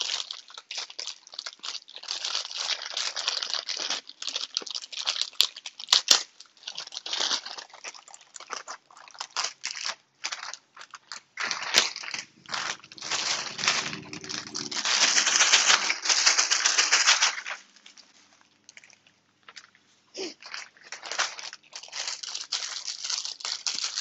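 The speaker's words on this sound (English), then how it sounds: "we're going to start off by putting our crackers in our Ziploc bag" Dry crackers rustle and crunch as they are poured into a Ziploc plastic bag, with steady close crinkling and crackling that swells to a denser burst midway, then settles into lighter rattling.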